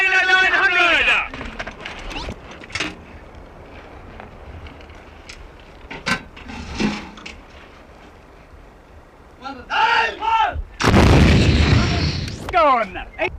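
An artillery gun fires during a military crew drill, sending out a loud, close boom with a long rumbling burst near the end. Shouted commands come before the blast and overlap it.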